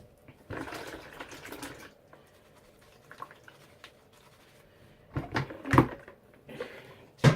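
A makeup brush rinsed under water: bursts of splashing and running water near the start and again near the end, separated by quieter handling noises, close and moderately loud.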